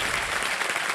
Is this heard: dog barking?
no